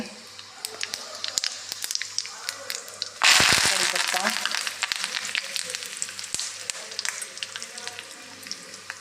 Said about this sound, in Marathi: थोडं तेल घालून घेते मोहरी जिरे